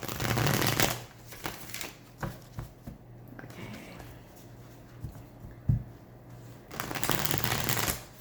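Tarot cards being shuffled in bursts of quick riffling and soft slaps, loud at the start and end with quieter shuffles between, close up, with a brief spoken word.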